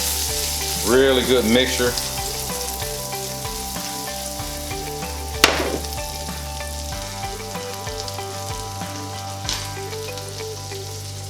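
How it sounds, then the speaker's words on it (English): Onions fry in a hot skillet with a steady, loud sizzle for breakfast cooking, joined by scraping stir sounds and a sharp clank partway through, while a voice speaks briefly over the cooking. "Making sure that the onions are cooking, but I don't want to overcook it"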